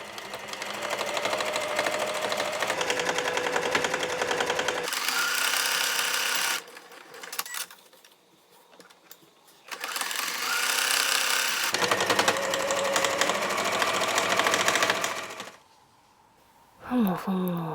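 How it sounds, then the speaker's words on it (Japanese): A domestic sewing machine stitches a triple-folded side seam on small fabric scraps for a drawstring pouch, running in steady close bursts separated by brief pauses. "あらかじめ脇を三つ折りで縫ってみようかな。"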